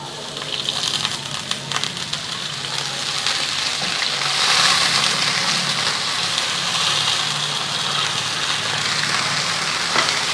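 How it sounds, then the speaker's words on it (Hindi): Golden brown onions frying in oil give a steady loud sizzle and crackle after a little water goes into the pan, with the hiss swelling and staying dense throughout and no talking. "जैसे ही ये प्याज गोल्डन ब्राउन हो जाते हैं, ये देखें इनकी इस तरह की रंगत आ जाती है, तो फिर हम इसके अंदर थोड़ा सा पानी शामिल करेंगे।"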